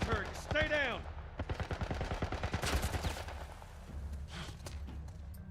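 Military turret gunfire in The Last of Us Part 1, a rapid burst of heavy, close shots in quick succession, then scattered distant rounds, with a voice at the start.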